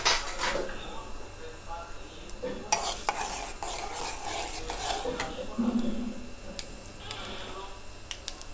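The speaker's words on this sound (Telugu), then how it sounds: "ఇలాగా పోపు దినుసుల్ని ఫ్రై చేసుకుంటూ ఉండాలి" Tempering spices, curry leaves and dried red chillies, frying in a pan for bitter gourd fry, a low sizzle broken by spoon scrapes and clinks against the pan, with a voice talking over it.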